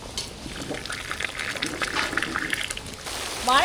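Tamarind water poured into a large pot of boiling sambar, a splashy liquid pour and trickle at close range, with brief sloshing near the end.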